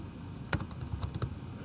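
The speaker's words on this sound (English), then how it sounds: "what you need to type is mod" Several quick, crisp keystrokes tap on a computer keyboard at close range in a short irregular burst over a quiet background.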